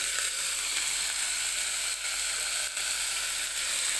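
Avarekalu (field beans) and fenugreek leaves fry in a pan with a steady, dense sizzle that holds for the whole stretch, dipping only briefly once or twice, with no voices.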